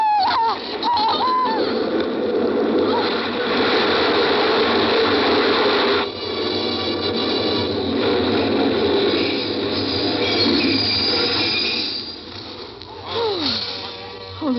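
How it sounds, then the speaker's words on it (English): A subway train approaches in an old radio horror drama, a loud grinding, clattering mechanical roar with ratcheting rattles and squeals that rises and shifts before fading slightly near the end. "Oh, the train was imminent."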